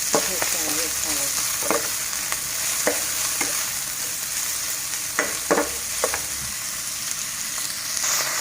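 Sliced mushrooms stir-frying in a hot pan for a minced pork stir-fry, a steady close sizzle with scattered clinks and scrapes of a spatula stirring, and brief soft talk underneath.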